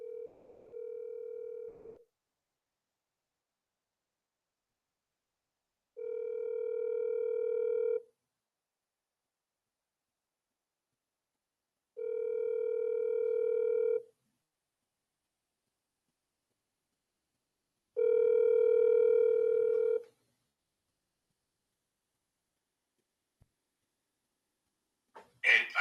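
A telephone rings out on a call, four evenly spaced ringback tones about two seconds long separated by silent gaps, followed by a short burst of noise at the end.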